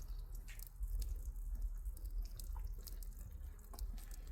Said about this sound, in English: pour the hot water over the battery terminals